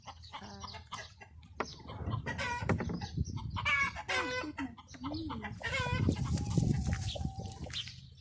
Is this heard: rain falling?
no